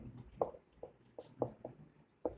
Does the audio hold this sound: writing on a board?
yes